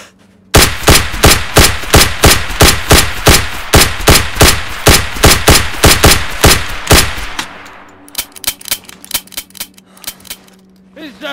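Rapid automatic gunfire from a video game, a loud steady burst of evenly spaced shots lasting several seconds, then a few scattered, quieter shots trailing off.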